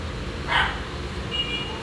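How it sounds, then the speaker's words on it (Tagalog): A single short dog bark rings out at moderate distance over a low background hum, followed by faint noise. "May aso."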